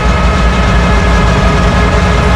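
A loud, heavy boat engine drones steadily at close range on a sea crossing to Janjira fort, a low constant rumble with no pauses or voices.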